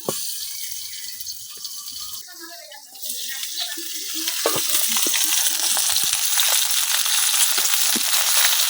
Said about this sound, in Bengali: এক সাইড ভাজা হয়ে গেছে, এখন আমি আরেক সাইড উল্টাই দিতেছি